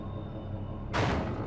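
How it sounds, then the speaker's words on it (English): A door opening in The Evil Within, a sudden broadband rush of sound cutting in partway through over a steady low hum, loud and close. "Apparently Kidman is the one who opens the door for Sebastian."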